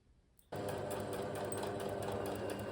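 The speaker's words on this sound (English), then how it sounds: "I've now sewn in the facing on the top seam of my dress" A sewing machine stitches the facing onto the top seam of a dress, starting abruptly after a short quiet lead-in and then running in one steady, loud, close continuous whir.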